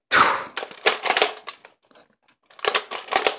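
A toy gun is handled with sharp close clicks and snaps, a loud crack at the start followed by several rapid mechanical clacks, a brief pause, then another quick burst of clicking.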